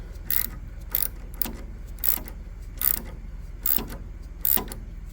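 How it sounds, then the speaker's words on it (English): Tight threads being cleaned up on an edge bander, giving a steady mechanical hum under repeated ratcheting, grinding turns at a regular rhythm, close and moderately quiet. "Got a little tight here, so I'm cleaning up some threads."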